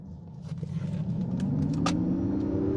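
A Nissan Ariya e4orce electric car launches hard, its motor whine climbing steadily in pitch and loudness over a few seconds beneath road and tyre rumble, close and continuous.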